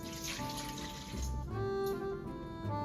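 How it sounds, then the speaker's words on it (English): Warm water pours from a tap into a mixing bowl for pizza dough, a steady close splashing stream whose pitch shifts as the bowl fills. "So I'm gonna add warm water to the bowl."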